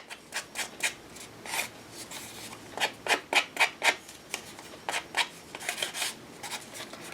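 Walnut Stain Distress Ink being rubbed around the edges of metal book pages, heard as a series of short, close, papery scrubbing strokes in irregular bursts with brief pauses between, alone and without talk.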